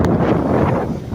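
Strong wind on a shoreline buffets a microphone in loud, continuous gusts of rumbling noise, with no voices.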